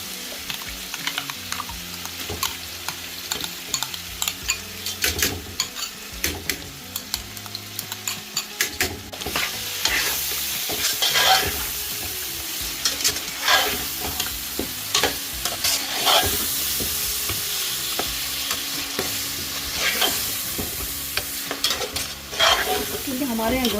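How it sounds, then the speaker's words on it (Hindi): Mutton frying and being stirred with yogurt and finely chopped green chilies in a pot for Karachi-style yakhni pulao, a steady close sizzle broken by repeated scraping, clattering stir strokes, with no talking. "इसके बाद हम इसमें दही डाल के भूनेंगे।"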